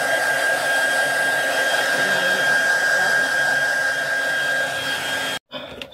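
A hair dryer blows hair dry with a steady, loud whirring hum that holds evenly before cutting off abruptly near the end, followed by brief handling noise.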